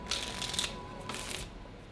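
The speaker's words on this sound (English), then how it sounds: "they start mixing the cards as they're doing that. So they mix on up, and give the cards shuffle." A spectator mixes and shuffles a deck of playing cards during a close-up card trick, giving two short bursts of papery riffling, near and fairly quiet, with no talk.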